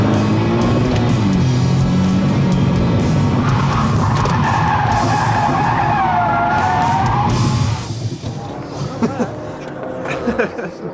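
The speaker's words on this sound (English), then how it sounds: "I came into the corner a little too hot on the brakes, and that made the car kind of rotate around." A car skids with squealing tires after braking too hard into a corner during a driving academy challenge, loud engine and tire noise that fades toward the end, with voices talking over it.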